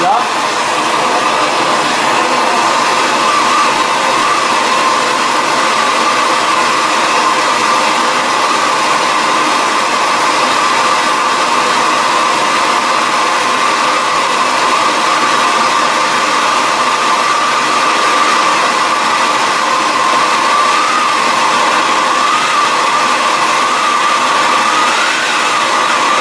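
A torch roars steadily for the whole stretch, heating a small homemade steel tool for removing fireplace rope seals until it glows red, a constant loud hissing blast with no breaks.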